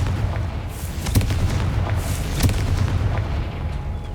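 A Confringo spell explosion in Hogwarts Legacy, heard as a couple of muffled booming blasts over a steady low rumble of game ambience.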